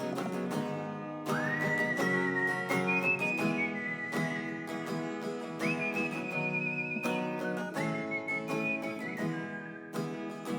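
Someone whistling a clear, melodic line with sustained notes that slide and leap between pitches, heard close and alone, with instrumental backing underneath.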